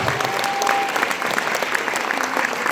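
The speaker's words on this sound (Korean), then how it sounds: "큰 박수 부탁드립니다." Wedding guests give a dense, even round of applause after the bride and groom's vows, loud and continuous with no talking over it.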